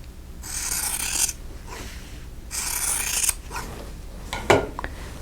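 Scissors cut apart quilt fabric squares, three or four close bursts of rasping, rubbing snips separated by short pauses, with no talk.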